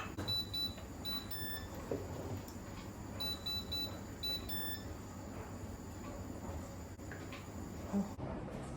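A phone notification alert for a service, heard as short, high electronic beeps in two quick clusters in a quiet indoor room, with faint background hum.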